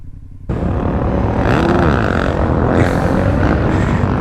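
A Suzuki DRZ motorcycle riding past close by, its engine rising into a loud, sustained roar that holds steady for several seconds.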